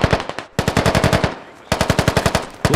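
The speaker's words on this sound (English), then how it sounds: "He's just throwing rounds at what he sees as our tracers, and a lot of our tracer comes back at him." Rapid automatic rifle fire in the military shooter game Squad, two long close, loud bursts of evenly spaced shots separated by a short pause, with a brief final shot at the end.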